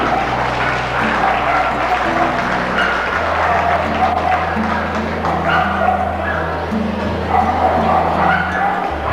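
Dogs bark and yip among a crowd at the Brisbane Royal dog show, steady bow-wows over a constant hum of applause and murmur in the ring.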